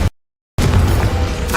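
A Confringo blast spell detonates in Hogwarts Legacy, a loud booming burst that follows a brief silent gap and rolls on for about a second with a sustained crackling rumble.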